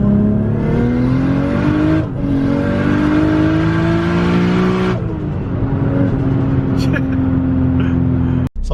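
A tuned 640 whp S15 Silvia engine climbs hard through rising revs, shifts, then pulls again, loud and raspy nearby before easing off at the end.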